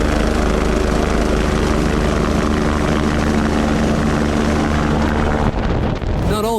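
A rescue helicopter's rotor and engine drone steadily, loud and close with heavy wind buffeting, before the roar shifts and falters near the end.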